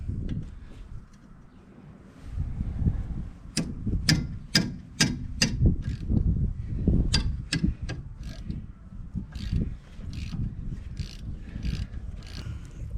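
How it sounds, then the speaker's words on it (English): A socket ratchet with a 3/8 Allen bit clicks as it loosens brake caliper bolts on a Chevy, a run of sharp close ticks over a low mechanical rumble. "so I like to use these ones on the socket with a ratchet"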